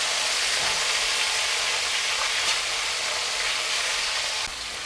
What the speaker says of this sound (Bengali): ফুলকপিগুলো এরকম আমি একটু হালকা করে ভেজে নেব